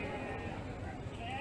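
A goat bleats amid the crowd at Kalidawir livestock market, its wavering cry mixed with nearby people talking and general market bustle.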